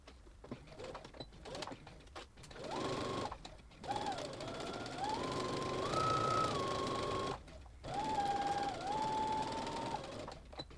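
A sewing machine stitching the seam of a fabric drawstring bag, running in several long whirring bursts with short stops between, close and steady, with faint speech at the start.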